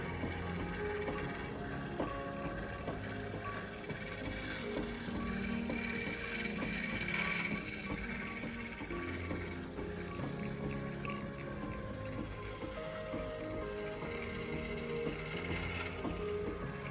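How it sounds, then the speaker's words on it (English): A sewing machine winds a bobbin with dark green decorative thread, a faint continuous whirring hum with a light mechanical rattle, steady throughout with no voices. "I am filling up a bobbin with decorative dark green thread"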